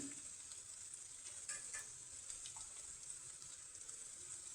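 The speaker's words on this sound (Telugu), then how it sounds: "ఉల్లిపాయ ముక్కలు ఈ విధంగా ఫ్రై కావాలండి" Onion pieces fry in a pan with ginger nearby, giving a soft continuous sizzle with light stirring scrapes, quiet and close with no voices.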